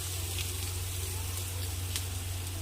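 Garlic sautéing in hot oil for a village-style chilli dish, a dense, even sizzle that runs close and continuous throughout with a steady low hum underneath.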